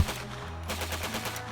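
Rapid bursts of police gunfire in a shootout, a dense crackling volley over a continuous low rumble.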